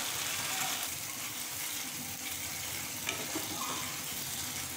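A spice paste being cooked down in a pan for a taro-stolon and dried-fish dish, giving a faint, continuous hiss and sizzle with occasional soft stirring, no voices.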